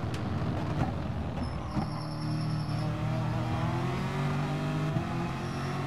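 Race cars roar through a Gran Turismo Sport race, a McLaren chasing in the slipstream, engines droning steadily at close range with rising pitch as they accelerate, continuous and loud with no voices.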